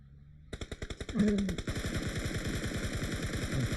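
Rapid automatic gunfire rattles in a fast, steady burst, preceded by a few slower shots, from in-game weapons in PUBG Mobile.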